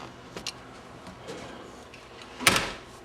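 A repaired exterior wooden door at a meetinghouse is pushed shut, giving a few light clicks and then a firmer latch thud near the end, all fairly quiet.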